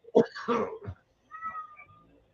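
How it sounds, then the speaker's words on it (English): A domestic cat vocalizes indoors, a few short, close meow-like calls in quick succession, followed by a fainter drawn-out tonal call after a brief pause. "Now I heard the cat."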